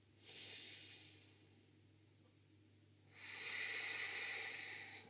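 Two long, deep breaths in a quiet yoga flow session, an inhale and then a fuller, louder breath after a pause, airy and close with no talking over them.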